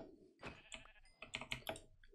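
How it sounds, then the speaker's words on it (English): Sheep bleating in the Minecraft video game, several short, clipped game bleats and hit sounds in quick succession, fairly loud and close, with no talking. "let me finish killing the sheep"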